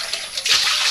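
Water pours steadily into a pot for pork goulash in a home kitchen, a close, loud hissing rush that swells partway through, with no one talking.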